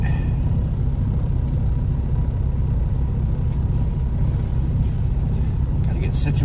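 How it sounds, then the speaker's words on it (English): A pickup truck engine idles steadily while warming up, a continuous low rumble that stays even and close for the whole stretch with no talk over it. "We're gonna let the truck warm up for a little bit."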